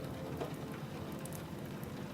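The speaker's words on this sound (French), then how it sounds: "La pluie commence à être de plus en plus forte." Steady, dense heavy rain falls in the countryside on an evening, a continuous even hiss with no pauses or distinct drops standing out.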